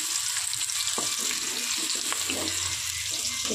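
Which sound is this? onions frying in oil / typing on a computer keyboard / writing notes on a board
onions frying in oil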